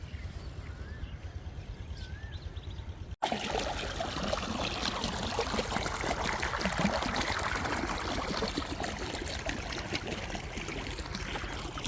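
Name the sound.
pumped water pouring into a farm field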